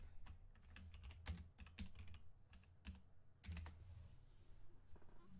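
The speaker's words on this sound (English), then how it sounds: "what the fuck am I typing?" Fast typing on a computer keyboard indoors, with irregular bursts of sharp key clicks and short pauses, fairly quiet and close, with no talking.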